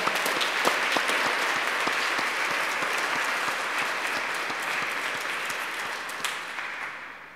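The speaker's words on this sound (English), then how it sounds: "Let's give them all a round of applause." A church congregation applauding the choir and ministers at a Christmas Eve Mass, a sustained wash of many hands clapping close by, holding steady before tapering off toward the end.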